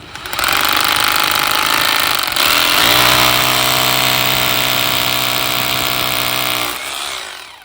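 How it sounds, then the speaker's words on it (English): A hammer drill bores into a wall to mount a hose reel, a loud, continuous rattling grind close by that shifts to a steadier lower hum partway through before tapering off. "then start hammer drilling."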